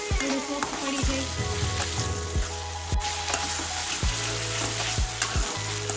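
Capsicum fries with onion and tomato in a pan for pav bhaji, a loud continuous sizzle punctuated by repeated scraping strokes of stirring at an uneven rhythm, with no speech.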